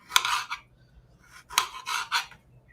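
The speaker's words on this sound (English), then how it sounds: "It's a glass cutting board too, so it echoes on that as well." A chef's knife strikes a glass cutting board while prepping ingredients: a sharp clack, another a moment later, then a cluster of three bright, rasping scrapes after a pause, fairly close and with no talk.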